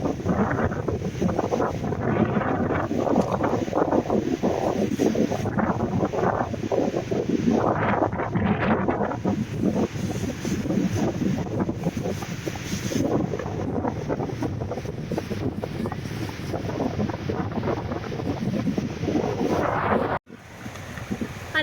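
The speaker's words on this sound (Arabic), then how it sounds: "راه ريح كبير" Strong wind blows outdoors by a lake, a loud, continuous buffeting roar on the microphone that gusts and swells throughout before a brief drop near the end.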